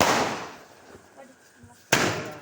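A single sharp firecracker bang bursts out during Diwali after a stretch of faint crackling and background noise, with the blast's noise lingering briefly afterward.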